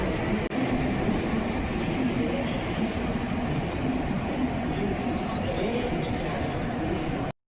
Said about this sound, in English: So I've got to get the train to Brussels.